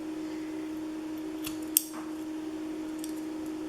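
A single crisp snip of scissors cutting paper for a scrapbook page stands out once against a quiet room with a steady electrical hum, close and brief, with no talking.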